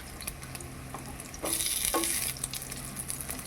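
Bread chop, a breaded Bengali snack, frying in hot oil. A steady low crackle swells into a brighter, louder sizzle burst midway, then settles back to a softer bubbling.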